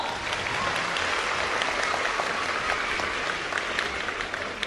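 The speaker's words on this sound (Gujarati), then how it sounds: "એમના માટે જોરદાર તાળીઓ પાડો" Sustained applause fills a hall for a Gujarat BJP legislator at a Vadodara event, a dense, steady patter of many hands clapping at even loudness from start to finish.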